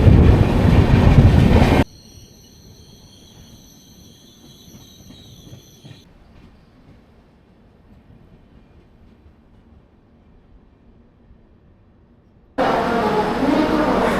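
Train running on rails toward Kollam Junction in Kerala, heard from inside a carriage: a steady low rumble with a high metallic whine from the wheels, between louder bursts of close noise at the start and end.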